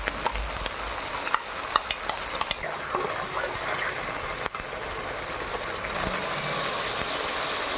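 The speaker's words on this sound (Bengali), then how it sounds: "দেখুন বন্ধুরা, আমার প্রায় মশলাটা কষানো হয়ে গেছে।" Spiced yogurt masala with chili powder and a pinch of sugar fries in oil, hissing steadily with scraping stirs and clicks of a spoon against the pan; the sizzle brightens and swells toward the end.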